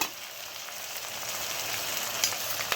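Mint, tomato, garlic and green chilli sizzle steadily in a pan for red pasta sauce, a continuous close frying hiss with a faint crackle near the end and no talk.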